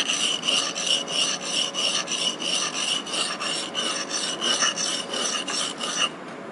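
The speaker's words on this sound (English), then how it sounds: "he's going to stab you with the chisel that you just sharpened" A steel chisel is rubbed back and forth on a sharpening stone in steady, rhythmic raspy strokes, close and fairly loud, about a dozen passes before it stops near the end.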